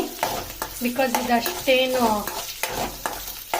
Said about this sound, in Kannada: ಸೊ ಇದನ್ನು ಫ್ರೈ ಮಾಡ್ಕೊಳ್ಳೋಣ.